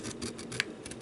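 Scissors snipping through a paper bag in a quick series of short, close cuts, with one sharper click among them.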